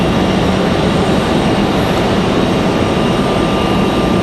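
A Breeze Airways airliner arriving from Louisville at Raleigh-Durham airport gives a continuous, loud broadband engine rumble and roar that holds steady throughout, with no voices.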